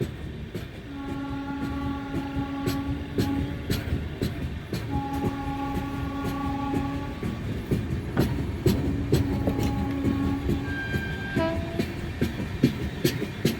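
A train on a single-line railway runs along the track with a steady rolling rumble and rhythmic wheel clatter, joined by long sustained horn blasts sounding in three separate bursts, loud and close with no talking.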